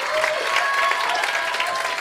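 Audience applauding the winner of the 2021 NightWash Talent Award comedy contest finale, a dense, even wash of many clapping hands filling the hall for two seconds.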